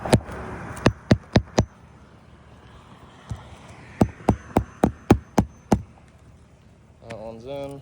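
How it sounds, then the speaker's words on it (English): Nails are hammered into roof shingles, sharp, close hammer strikes in quick bursts of three or four, then a steadier run of about eight blows, with a short pause between series and a voice at the end. "granules are pooling up in here that are falling off this roof as we're hammering in"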